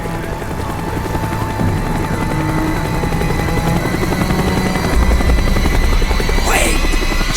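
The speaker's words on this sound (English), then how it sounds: "The chopper is coming around again." A helicopter circles overhead in the Call of Duty Black Ops game, its rotor chop throbbing loud and continuous as it sweeps around, with a sharp whine rising near the end.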